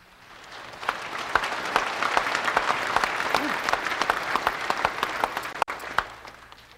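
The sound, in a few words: audience applause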